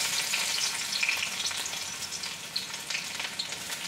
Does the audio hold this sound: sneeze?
no